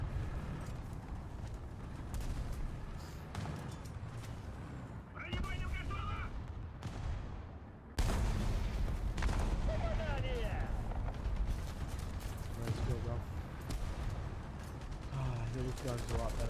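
Gunfire from tanks in the War Thunder video game, a loud sustained barrage of repeated blasts and shots with clattering mechanical noise over steady battle rumble, with a voice talking at times.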